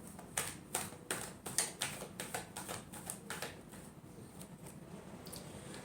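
Tarot cards shuffled by hand in a quiet room: a run of crisp, snappy taps and riffling clicks, close and moderately loud, coming in quick irregular bursts that thin out toward the end.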